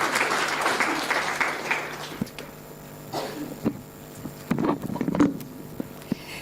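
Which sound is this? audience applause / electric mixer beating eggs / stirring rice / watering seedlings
audience applause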